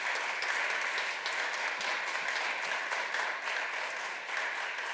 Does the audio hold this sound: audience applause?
yes